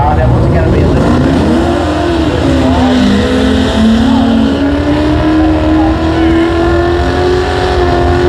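A Mopar car engine revs loudly and continuously, pitch rising slowly, with voices talking over the roar.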